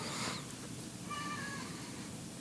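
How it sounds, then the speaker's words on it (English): A friendly black studio cat gives a short, faint meow amid quiet room noise. "Black studio cat, very, very friendly, wants to come over and see what's going on."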